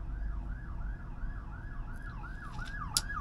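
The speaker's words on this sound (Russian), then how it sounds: "Пожарники едут." A fire truck siren wails in repeated rising and falling sweeps as the vehicle passes along a street, loud and steady, with a sharp horn blast near the end.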